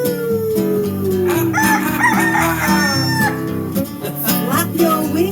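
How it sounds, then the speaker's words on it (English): A rooster crows a full cock-a-doodle-doo, loud and close, with its rising and falling call heard over steady musical tones. "Wake up and shout, cock-a-doodle-doo!"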